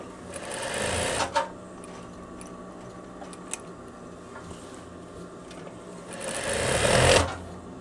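A sewing machine backstitches a pocket on veterinary coveralls, with two loud bursts of rapid stitching at the start and end separated by quieter ticking and handling sounds.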